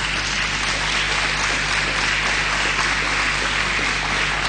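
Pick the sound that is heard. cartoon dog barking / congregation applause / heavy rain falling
congregation applause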